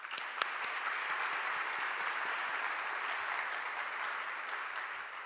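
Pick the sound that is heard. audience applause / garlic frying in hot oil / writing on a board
audience applause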